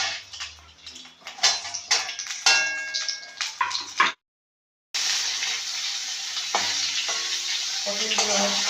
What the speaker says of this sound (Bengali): ভালো করে যাতে ভাজা হয় সেজন্য আমি দুটো দুটো করে ভেজে নেব